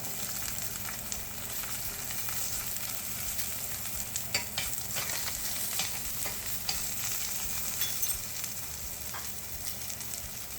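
Garlic sizzles in a pan alongside seared halibut, a steady close frying hiss broken by small crackles and the odd scrape of stirring, with no voices.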